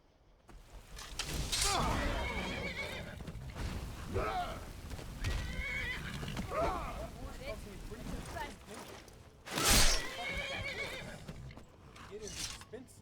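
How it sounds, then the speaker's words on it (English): A horse in the video game Skyrim whinnies loudly twice, at the start and again near the end, with hoof clip-clop and someone talking in between. "Fucking stupid horse."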